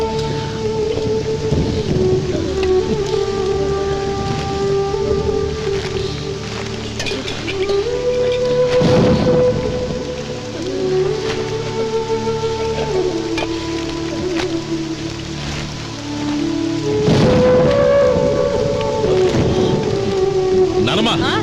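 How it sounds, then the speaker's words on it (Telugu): Heavy rain with thunder, a steady wash of rain running throughout under drifting tonal music, with rumbling thunder swells around the middle and a louder surge near the end. "ఇప్పుడు అర్ధంతరగా ఈ వర్షం పట్టుకుంది"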